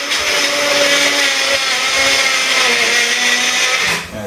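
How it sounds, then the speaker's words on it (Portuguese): A home ice cream machine blends frozen banana into Italian-style ice cream, a loud steady motor whir with a grinding, churning rasp that runs continuously and dips briefly near the end. "Eu coloco aqui e ele vai fazer um barulho"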